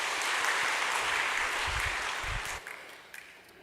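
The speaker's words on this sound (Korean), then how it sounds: "박수하겠습니다." Warm applause from a congregation fills a church during an evening worship service with communion. It is steady and dense at first, then thins and fades out toward the end.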